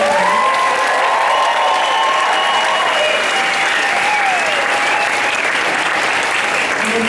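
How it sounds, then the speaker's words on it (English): Sustained audience applause at an evening fire-arts flow show, a dense wash of clapping with some crowd noise that stays loud and steady for the full seven seconds. "I want to give them first a big applause"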